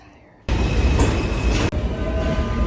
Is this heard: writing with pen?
no